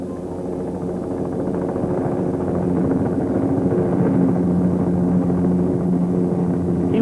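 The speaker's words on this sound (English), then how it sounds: "Rashtrapati Sri V.V. Giri landed on the rock by a helicopter for the opening of the memorial." A helicopter lands on Vivekananda Rock for the opening of the memorial in the 1970s, heard as a steady, moderately loud engine and rotor drone that holds throughout without speech.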